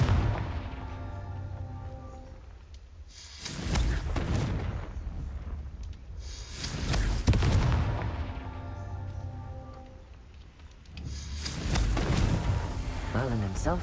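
A Confringo fire spell blasts repeatedly in Hogwarts Legacy, three loud booming bursts spaced a few seconds apart over game music, with someone speaking between them.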